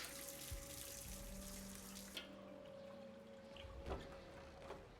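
Water runs steadily from a faucet inside a video game during a speedrun race, a continuous faint hiss with a low tonal hum and a few soft knocks underneath.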